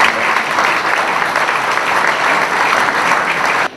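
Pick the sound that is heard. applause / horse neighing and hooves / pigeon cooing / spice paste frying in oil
applause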